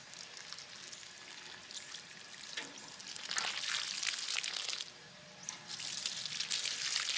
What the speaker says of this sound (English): I'm going to give it a bit more water.